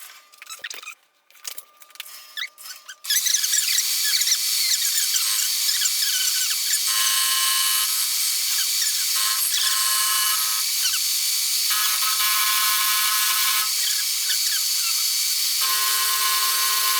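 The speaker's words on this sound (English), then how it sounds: "I'm going to take a 30-degree parallel, and we'll mill off 30 degrees on this" A milling machine cuts a 30-degree angle into a metal plate for a belt grinder build, a loud, steady high-pitched cutting whine that starts abruptly after a few seconds of clatter and carries on to the end.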